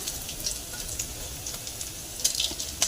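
Cumin seeds and black peppercorns sautéing in a pan for a karpooravalli leaf chutney, a steady soft sizzle with faint crackles and a few sharper pops near the end, no voices.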